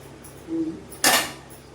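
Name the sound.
stirring fish curry in a cooking pot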